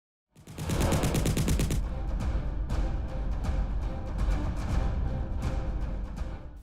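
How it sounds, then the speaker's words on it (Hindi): Gunfire from Pakistani army firing near Akhnoor on the Line of Control in Jammu and Kashmir: a rapid automatic burst, then sustained overlapping shots that echo and rumble loudly without pause. "सीमा पर गोलियों की आवाज गूंजी"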